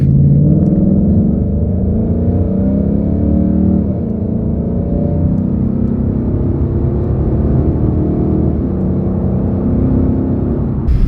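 A 2015-2023 Ford Mustang fitted with an aggressive front splitter accelerates hard in a quick pull, its engine a loud, continuous low rumble that rises in pitch, heard from inside the car.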